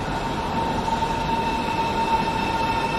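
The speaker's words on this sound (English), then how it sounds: "This train has come from Spandau." A train that has come from Spandau runs through a busy station with a steady, loud rumble and a faint sustained whine, continuous with no voices.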